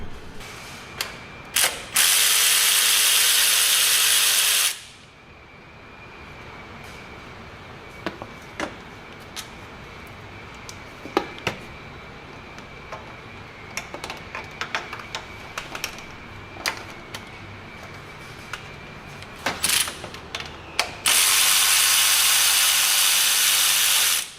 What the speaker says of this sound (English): That's why I love using these mid-deep sockets.